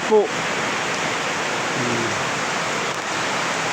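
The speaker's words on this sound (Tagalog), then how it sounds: "Ayan lakas ng ulan guys." Steady, dense rain pours down heavily, a continuous broadband hiss with a brief voice near the start.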